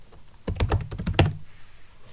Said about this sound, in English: if I go to my local operating system and type sudo vi htc hosts,